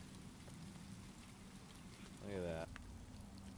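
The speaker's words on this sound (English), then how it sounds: "Hail falling." Hail pattering steadily outdoors on a sunny New Year's Day, a dense, even crackle of small impacts throughout, with a brief spoken remark near the end.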